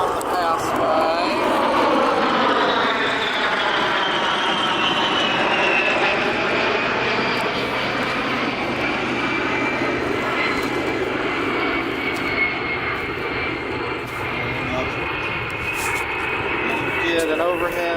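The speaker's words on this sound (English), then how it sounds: "Here's a flight of 4 A-10s coming at us. We're going to catch them on the pass-by." Four A-10 jets sweep past at an airshow arrivals runway, a loud continuous jet roar swelling and sliding in pitch with a clear doppler shift as the flight passes close overhead, steady throughout with no pause.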